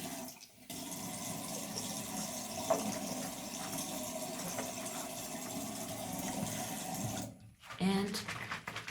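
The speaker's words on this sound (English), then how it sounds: "I just fill it up with water." Warm water streams into a bottle in a steady, fairly quiet rush that briefly cuts out near the start and end, with a person talking over it.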